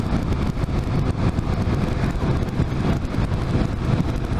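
A KTM motorcycle cruises along the road, its steady engine drone buried under loud, constant wind rush across the microphone.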